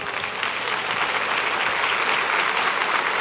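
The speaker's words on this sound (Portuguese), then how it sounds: "Aplauda o Senhor por isso." Sustained, dense applause from a church congregation during a Portuguese-language sermon, steady and loud throughout without breaks.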